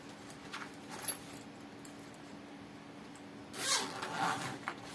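A zipper sewn into a handmade 2-in-1 backpack is run a short way once, and later again in a longer, louder zip, against a quiet room.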